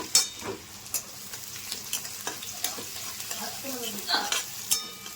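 Chopped onion dropped into hot oil in a home kitchen pan for a besan dish, giving a close, steady sizzle with sharp stirring clatters and scrapes spaced through a few seconds.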